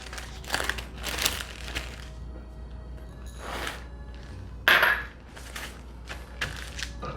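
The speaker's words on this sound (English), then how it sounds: "put them in the plastic bag, and then smash them" Black peppercorns in a plastic bag smashed with a pot for a mushroom steak sauce: several sharp crunching, crinkling thumps in uneven bursts, with one louder crack near the end, all close and without speech.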